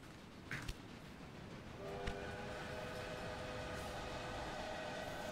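Trains depart in the game Railway Empire. A low rumbling rail noise is joined by a sustained horn or whistle tone that rises and holds steady, with a couple of short clanks early on.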